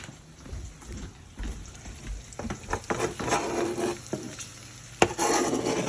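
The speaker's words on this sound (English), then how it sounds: "That's all the onion I'm going to use. Let's go throw it in the pot." Chopped onion tumbles into a soup pot and starts to sauté for zuppa toscana, with scattered clicks and scraping of a utensil against the pot over a gentle sizzle, ending in a sharp knock.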